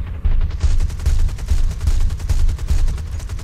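Aircraft guns firing in the War Thunder combat flight game: loud, rapid bursts of automatic gunfire in a steady rhythmic stutter, close and dominant, with no talking.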